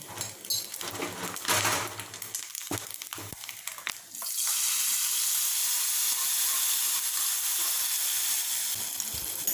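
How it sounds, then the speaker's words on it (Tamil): Roasted coconut is poured into a Kerala-style pumpkin kootu and stirred, giving a few seconds of clattering scrapes and spoon knocks before a steady, even hiss of simmering takes over. "அதை எடுத்து அந்த சேர் வகையில் ஒன்றா ஊற்றி நல்லா கிளறி விட வேண்டியது தான்"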